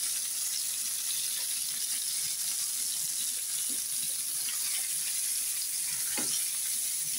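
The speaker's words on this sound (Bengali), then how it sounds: "মাছটা খুব মজবুত করে ভাজলাম" Fresh fish frying in a pan, a steady close sizzle and crackle with brief stirring clicks and no talk throughout.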